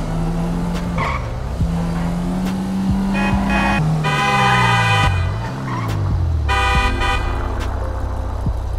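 A car in GTA V Online drives around with a steady, loud engine drone that rises and falls with gear changes, broken by tire squeals and bursts of car horn honking.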